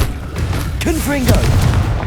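Confringo fire spell explosion in Hogwarts Legacy, a loud booming burst mixed with swooshing magical effects, with a voice speaking over it.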